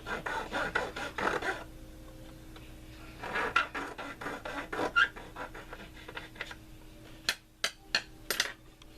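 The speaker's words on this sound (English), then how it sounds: "You take his jeweler files and make sure everything's all square, all around." Small jeweler files rasping and scraping on a plastic model tug part, close and quiet in uneven bursts, ending with a few sharp taps.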